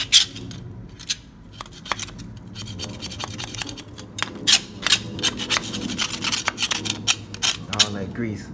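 Brush scrubbing of greasy parts coated in Simple Green degreaser, a steady rasping rub with sharper scratchy strokes that grow busier toward the end, close up, with a low background hum throughout.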